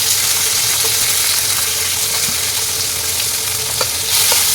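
Chopped tomato, peas and green chilies with garam masala fry in a hot pan, a loud, steady sizzle with faint stirring scrapes throughout.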